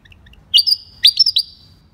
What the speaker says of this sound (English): He's a little willy wagtail, and I just played back his song to him.